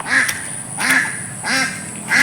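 A duck quacks near a rain-flooded pond or canal in Assam, giving four loud, nasal calls spaced roughly evenly and close by, with no talk over them.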